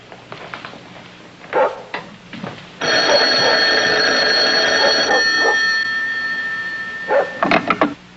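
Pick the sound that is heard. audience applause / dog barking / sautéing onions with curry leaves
dog barking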